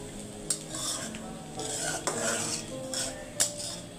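A utensil scrapes and clinks against a pan while bitter gourd fry sizzles softly, with several distinct metallic knocks among steady stirring, close by and with no voices.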